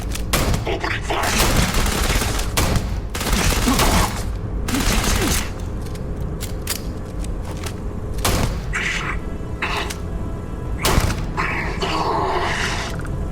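Gunfire and combat in the space RPG Starfield: repeated bursts of shots and booms come in clusters over most of the stretch, loud and close, with brief gaps and game voices mixed in.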